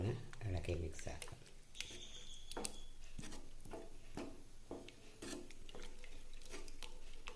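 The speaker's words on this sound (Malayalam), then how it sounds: "തൈര് ചേർത്ത് നല്ലപോലെ ഒന്ന് ഇളക്കി മിക്സ് ആക്കാം" Curd being stirred into mathan pachadi, a Kerala pumpkin-and-curd dish, with a spoon clinking and scraping against the pan in a steady series of close stirs while someone talks over it.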